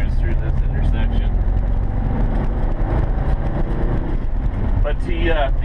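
A 1979 Volkswagen camper van cruises steadily, its engine and road rumble droning loud and close throughout, with a voice talking over it.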